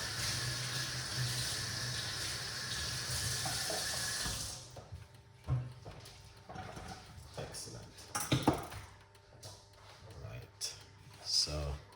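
Tap water runs steadily into a kitchen sink for several seconds, then stops, followed by clinks and knocks of dishes and utensils as ingredients for a detox drink are rinsed, close and moderately loud.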